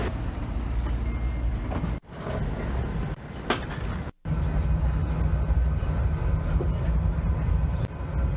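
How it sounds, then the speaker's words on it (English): Steady interior rumble of a passenger train travelling from New York's Penn Station to Washington, D.C., loud and continuous with two brief dropouts, no talk. "It's about a 3-hour train ride to Washington, D.C."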